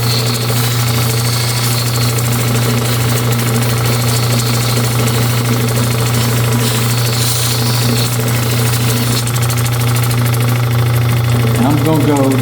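A lapidary wheel polishes a cabochon stone, its motor giving a loud, steady, unbroken hum with a strong low drone for the whole stretch.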